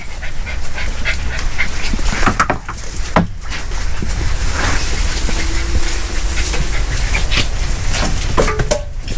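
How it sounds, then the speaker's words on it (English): Dogs panting and whimpering close by in an auto paint shop during a 1996 Impala SS paint job, over a constant low hum, with a few sharp knocks and no talking. "Dogs done came up in here"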